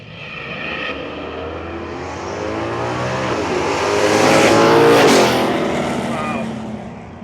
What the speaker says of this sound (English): Listen to that turbocharger whine.